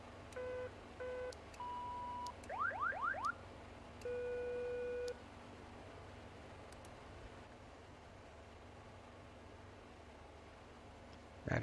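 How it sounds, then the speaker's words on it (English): Cockpit alarm test on a King Air 350 in the X-Plane 11 flight simulator: a series of short electronic beeps, rapid rising chirps and a longer steady tone, sounding one after another over a quiet hum, then fading to near silence. "Let's jump over here and we'll check our alarms."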